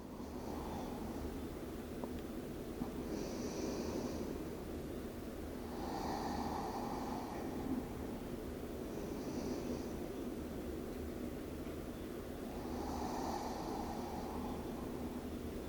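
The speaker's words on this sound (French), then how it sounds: "quelques souffles ici pour retrouver une respiration calme et profonde" Slow, deep, calm breaths during a prenatal yoga child's pose, several soft long inhales and exhales spaced a few seconds apart over a quiet hiss, close and gentle.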